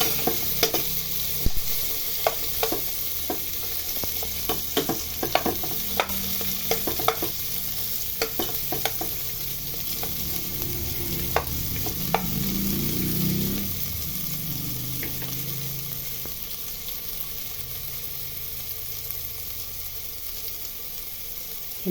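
Onions, ginger and garlic sauté in a pan for sinigang with pork liempo, a steady sizzle running throughout with frequent sharp clicks and scrapes of a utensil stirring, no voices.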